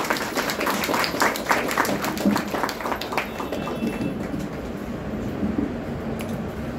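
Applause from an audience at a Brahma Kumaris gathering in Kalwa welcoming someone speaker, a dense steady round of clapping that runs throughout and slowly thins toward the end.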